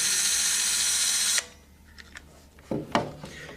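A Kolver electric screwdriver runs a loud steady whir for over a second and stops, followed by quieter clicks and a couple of short knocks.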